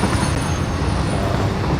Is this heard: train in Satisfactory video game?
yes